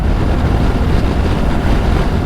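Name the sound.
Benelli TRK 702 X motorcycle riding at speed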